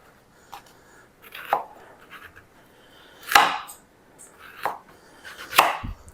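Knife chopping raw pumpkin into chunks on a board, a few separate sharp thuds spread unevenly over several seconds with quiet gaps between cuts.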